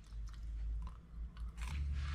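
Close, loud crunching and chewing of grilled asparagus cooked on a narrowboat barbecue, with several moist bites and crunches in quick succession and no talking.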